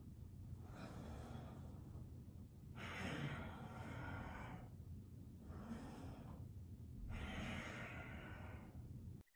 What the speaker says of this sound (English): I am breathing really loudly on purpose so that you can hear my inhalation.